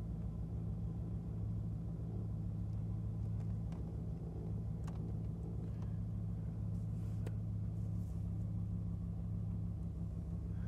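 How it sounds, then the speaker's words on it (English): A 1987 Pontiac Firebird GTA idles at about 800 RPM while reversing out of a showroom, giving a steady, loud low engine rumble with a constant hum throughout. "I'm hovering around 800 RPM with my foot on the brake as we back out."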